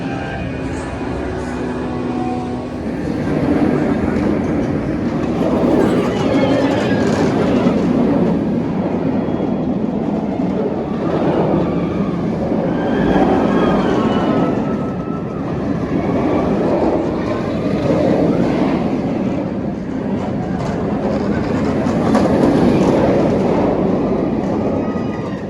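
A ride on the original Nemesis roller coaster at Alton Towers gives a steady, loud roar of wheels on track that carries on for the full run, with rider voices and screams mixed into the din.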